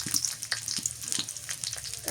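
Chopped onion frying in hot oil for a bottle gourd and prawn curry, giving a steady close sizzle with small crackles and pops throughout.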